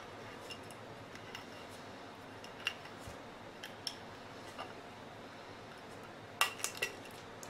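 The thin metal base of a lightbulb being peeled open like a tuna can, heard as faint, sparse metallic clicks and crinkles, with a quick cluster of sharper ticks toward the end.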